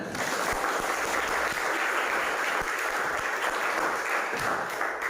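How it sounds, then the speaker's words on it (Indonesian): An audience claps together at a religious study class, a steady broad patter of hands kept up for several seconds with no voices on top. "Bagus, kasih tepuk tangan."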